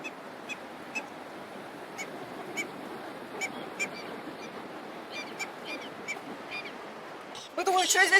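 Geese or similar waterbirds honk repeatedly at a river outlet by the sea in Mar del Plata, scattered calls over a soft wash of waves, ending in a burst of louder noise.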